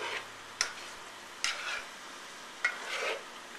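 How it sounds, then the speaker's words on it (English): A spoon stirs Filipino chicken adobo simmering in a pot, giving a few distinct scraping knocks against the pot over a quiet, faint bubbling background. "And then you can stir this up a little bit,"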